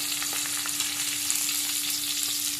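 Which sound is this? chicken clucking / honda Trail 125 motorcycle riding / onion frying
onion frying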